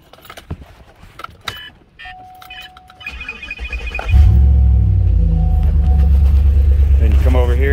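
A GM LS-engine light truck from 2007-2019 is cranked after alternator reinstallation: clicks and chimes, then the engine fires into a loud, steady idle rumble.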